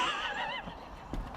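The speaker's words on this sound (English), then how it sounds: "Lovely horses." A horse whinnies loudly and close by for about half a second, its wavering call falling away into quiet outdoor ambience with a faint thud near the end.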